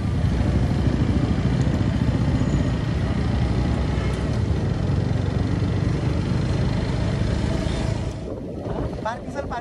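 A motorcycle rides along a road near Kathmandu, its engine a steady, close, continuous rumble throughout, with someone talking over it.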